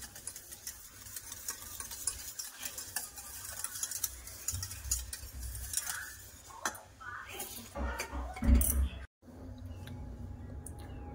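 Curd being whisked in a bowl for a brinjal-in-curd dish: steady, close scraping and stirring clatter that continues for several seconds, with a short break near the end.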